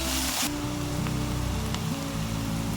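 Food sautés in a pan toward golden brown for a spicy South Indian egg pepper gravy, a steady close sizzle running under a constant low hum.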